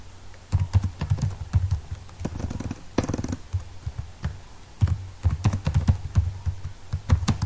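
Typing on a computer keyboard, close up: irregular clusters of clicking keystrokes with short pauses between bursts, no voice present.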